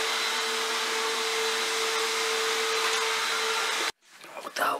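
A vacuum cleaner drones steadily indoors with a constant whine, then cuts off abruptly, leaving quieter room noise behind.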